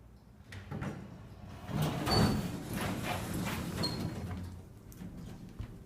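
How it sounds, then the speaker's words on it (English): An elevator door slides open in a building, a grinding rumble that swells and holds for several seconds, with faint clicks and thuds, fairly close and with no speech. "Door doesn't sound too good."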